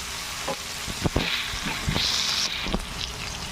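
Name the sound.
tomatoes frying in a pan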